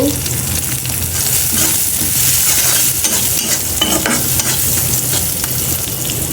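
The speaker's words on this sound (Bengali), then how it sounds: "এর মধ্যে আমি এই যে কাঁচামরিচ অর্ধেক দিয়ে দিলাম ভাজি হয়ে আসলে বাকি অর্ধেক দিব" Okra and green chillies sizzle loudly in a pan while being stirred, a dense close-up crackle with scraping bursts of the spatula recurring throughout.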